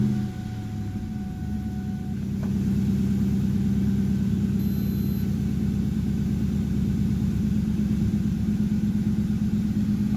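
A Mustang's engine idles steadily after a cold start, a low continuous rumble with no voices, holding an even level for the whole stretch.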